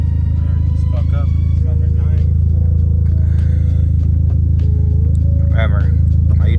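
A Dodge SRT4 engine pulling away in first gear, held around 2,000 rpm: a loud, steady, close low rumble throughout, with people talking over it.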